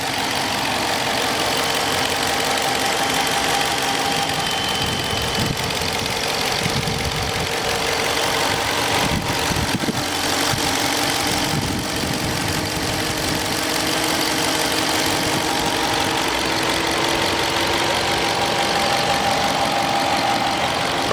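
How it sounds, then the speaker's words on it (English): A 2021 Dodge Charger Police car with a 5.7 HEMI V8, rear-wheel drive, idling steadily and close up, a constant low rumble with a slight ticking knock throughout and no talking. "Let me be quiet here for a quick second so you can hear the engine"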